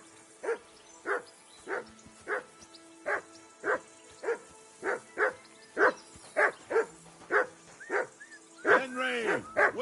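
A dog in the video game Kingdom Come: Deliverance 2 barks repeatedly in a steady rhythm, about fifteen sharp, close barks, ending with a louder, drawn-out whining yelp.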